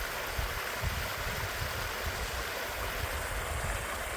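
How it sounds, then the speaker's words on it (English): Water pours from a garden hose into a pond, a constant close splashing rush with a low burbling churn underneath. It runs steadily throughout and no one speaks. "Taking it from the hose and putting it into the pond"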